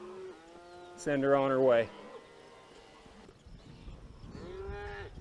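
A cow moos loudly for about a second while cattle are moved by riders on horseback, with someone talking calmly before and after the call and faint hoof and field noise beneath.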